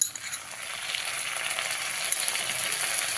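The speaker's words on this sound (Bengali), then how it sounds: "আদা আর কাঁচা লঙ্কার পেস্টটাকে খুব ভালো করে ভেজে নিয়েছি" Ginger and green chili paste fries in a pan for a Bengali pumpkin curry, making a steady soft hissing sizzle close by with faint stirring.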